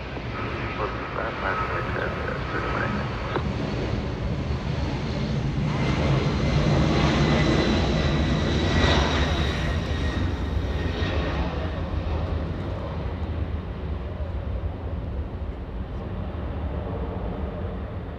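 A heavily loaded airliner departs runway 24 left at LAX using the full length, a deep sustained engine roar swelling in the middle then easing, with talk over it.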